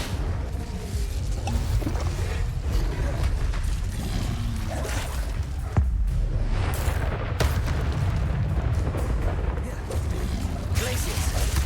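Spell-casting effects from the Hogwarts Legacy video game, including the Incendio fire spell, heard as a dense run of booming, crackling bursts over a constant low rumble, with a louder whoosh near the middle.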